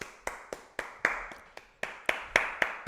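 Loud, regular hand claps, about ten sharp slaps spaced roughly a quarter second apart, close and alone without talk, during a pro wrestling podcast session.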